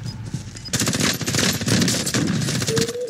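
Rapid automatic gunfire in the Call of Duty: Warzone video game, a dense burst of shots starting abruptly and continuing steadily to the end, fairly close and loud.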